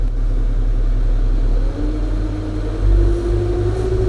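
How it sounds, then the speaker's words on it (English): A tractor engine idles with the power take-off engaged to drive a Trackless ribbon snowblower attachment. The mechanical rumble is loud and close and holds a steady low hum, with a slight rise in pitch partway through. "Your tractor has to be at idle to engage your PTO."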